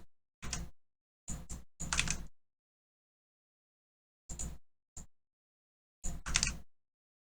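Computer keyboard keys pressed during 3D modeling work, several short clusters of quiet clicks and taps separated by silent gaps, close and isolated with no talk.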